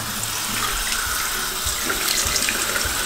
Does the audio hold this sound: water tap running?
yes